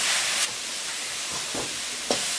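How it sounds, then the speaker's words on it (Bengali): Grated coconut and date palm jaggery frying in a pan while being stirred, giving a steady hiss with a few brief scraping strokes of the spoon, close and fairly quiet. "এবারে নেড়ে চেড়ে ভালো করে ভেজে নেব।"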